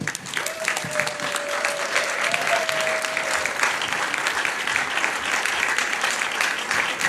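An audience at an event welcomes a doctor onto a podium with sustained applause, dense clapping throughout, while a presenter's voice carries over it in the first seconds.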